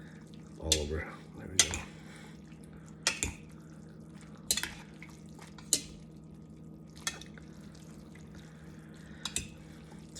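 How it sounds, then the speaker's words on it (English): Stirring Paldo Jjajangmen black bean instant noodles with collard greens and meat in a pot: scattered utensil clinks, scrapes and wet sloshing at close range, with a person speaking briefly over it. "I'm just gonna stir it and show you guys."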